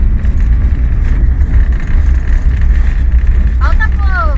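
Car engine revving hard in first gear before shifting into second on an unfamiliar road to the Santuário Rainha do Sertão in Quixadá, Ceará, a loud steady drone with a voice speaking near the end.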